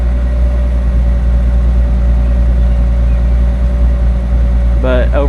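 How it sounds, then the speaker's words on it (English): A 1982 Datsun 280ZX Turbo with an upgraded exhaust and SuperTurbo muffler idles steadily up close, a loud, even low rumble throughout, with a brief rise near the end. "That exhaust is actually hitting us from here"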